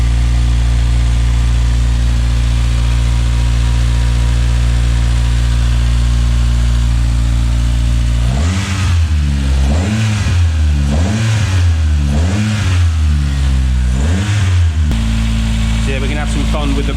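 A Toyota Starlet with a turbocharged 4E-FE engine idles loudly and steadily, then gets several quick throttle blips in a row before settling back to a rough idle, recorded close by.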